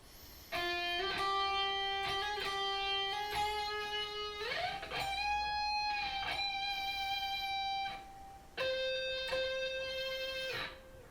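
A guitar plays a lead melody from a song's solo: long sustained notes with a half-step bend and vibrato, a picked note repeated, a gap of near silence, then a final held tone, with no accompaniment.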